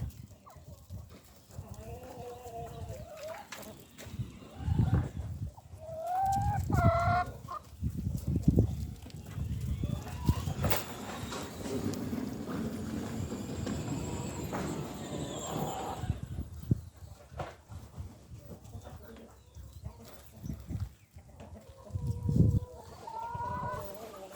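Chickens in a poultry coop cluck and murmur at moderate distance with scattered bursts. Voices speak intermittently between the clucks.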